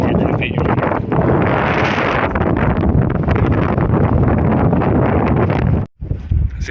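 Strong wind buffets the microphone outdoors near mangroves in a loud, continuous roar that drops out briefly near the end, with faint talk beneath it.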